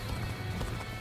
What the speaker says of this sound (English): I hit the button to get on the horse.